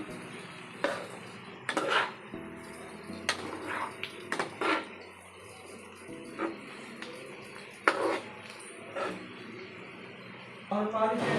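A spoon stirs egg curry with halved boiled eggs in a metal pan, giving intermittent scrapes and clinks. Someone talks quietly over the stirring.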